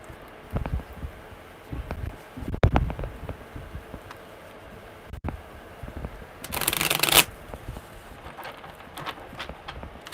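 Tarot cards being shuffled with soft riffling and tapping, a louder crisp riffle near the end, quiet room noise between.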